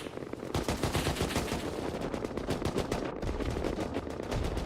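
Rapid automatic gunfire in the video game Rust during a naval wars event, loud close bursts firing continuously in a fast, even rhythm.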